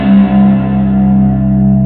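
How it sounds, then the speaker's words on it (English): A loud, distorted electric guitar chord from a guitar software plugin rings out, drenched in a splashy, echoing spring reverb that sustains and wobbles as it fades slightly. "Let's crank up the spring reverb."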